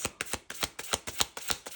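Tarot cards are shuffled in quick, rhythmic bursts during a reading, about a dozen crisp riffling strokes in under two seconds. The sound is soft and close, with no talking.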